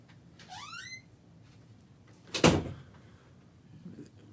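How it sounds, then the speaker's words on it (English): A door shuts once with a sharp, loud thud in a quiet room, preceded by a faint rising squeak; a rabbi's Talmud study session is underway. "Want to close the door?"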